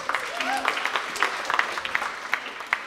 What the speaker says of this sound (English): everybody, a round of applause for Cillié